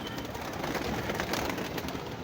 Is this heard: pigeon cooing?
yes